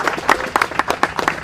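A small group of people claps at an outdoor camp gathering on a family's property, about a dozen distinct, uneven claps over a second and a half, close and moderately loud with no voices.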